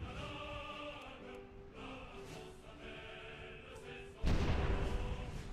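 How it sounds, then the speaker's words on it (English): A heavy artillery blast erupts in the World War I strategy game Supreme Ruler The Great War, a sudden loud broadband boom near the end cutting through a steady layer of game music. "Wow, that was a violent explosion"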